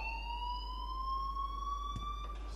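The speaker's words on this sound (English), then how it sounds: "please turn off that alarm" A school fire alarm rings in the game Life is Strange, sounding as a continuous high electronic tone with overtones held steady and fairly quiet, with a couple of brief thumps near the end.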